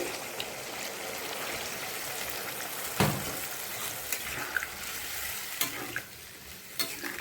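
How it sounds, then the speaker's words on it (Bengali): Hot water is poured into a paneer and potato curry frying in a pan. A dense, continuous hiss and bubbling sizzle runs throughout, with a few sharper splashy pops. "এখন এর ভিতরে দিয়ে দেবো জল। জলটা আমি গরম করে নিয়েছি।"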